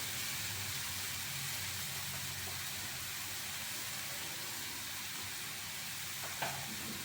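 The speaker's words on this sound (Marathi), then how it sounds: "आणि छान असं हे परतून घ्यायचं आहे" Vada pav potato filling with turmeric being sautéed in a pan, giving a steady close sizzle and hiss throughout, with a faint stir or scrape near the end and no talking.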